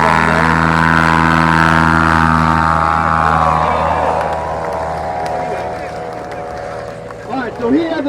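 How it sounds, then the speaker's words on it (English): Tailwheel airplane taking off during the STOL competition at Sun n Fun 2024, a loud, close propeller-engine roar that drops in pitch and fades as the plane climbs away. "did you notice that that airplane got airborne before the tail wheel hit the ground?"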